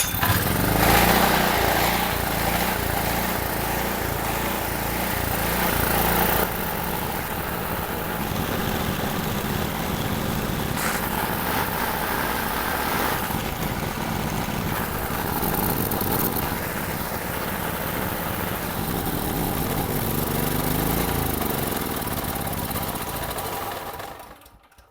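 A small-engine generator, bought cheaply and just repaired, runs loud and close for the whole stretch with a steady mechanical drone, some rough shifts in tone, then cuts off at the end; no voices.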